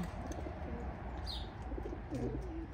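Racing pigeon hens coo softly in a loft, low throaty murmurs over a busy background hum, with a brief higher chirp partway through.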